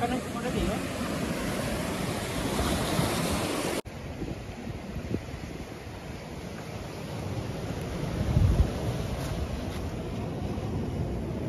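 Sea waves washing in at RK Beach, Visakhapatnam, a steady broad roar of surf and wind buffeting the microphone throughout, with a brief cut partway and a slightly louder surge near the end.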